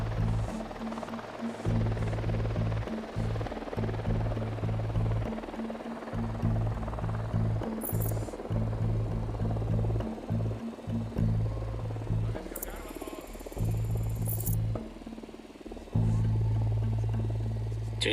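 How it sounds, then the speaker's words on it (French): An Unidad patrol helicopter in the video game Ghost Recon Wildlands gives a steady low rotor thrum and hum that persists for the whole stretch, with brief higher electronic blips now and then. "Hélico de l'Unidad en patrouille"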